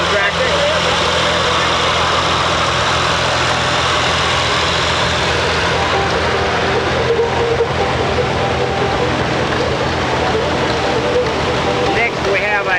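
An antique Massey Ferguson 135 tractor engine rumbles at a low, steady idle as it rolls past in an outdoor tractor parade, with an announcer talking over it throughout.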